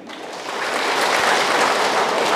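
A church congregation at an HKBP service applauding guests, a thick, even wash of many hands clapping that swells slightly and stays steady throughout.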